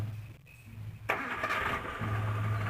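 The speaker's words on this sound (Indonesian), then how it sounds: "kemudian kita hidupkan mesin guys. Ya kita starter kembali." A car engine cranks and fires up after an oil filter change, a sharp start followed by a steady, close idle with no talk.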